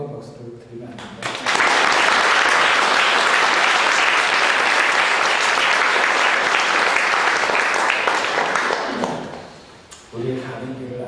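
A church congregation bursts into loud, sustained applause for several seconds, then it fades out, with a speaker's voice briefly before and after.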